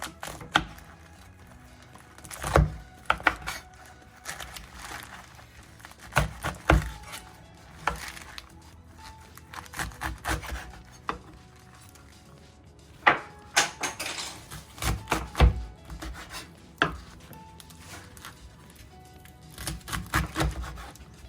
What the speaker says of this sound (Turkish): Şimdi pazımı doğruyorum.